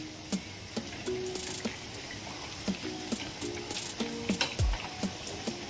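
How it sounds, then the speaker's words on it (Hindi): Baby corn fritters fry in hot oil with a soft, steady sizzle, broken by scattered small pops and crackles, close by and fairly quiet. "हल्का सुनहरा होने तक फ्राई करेंगे"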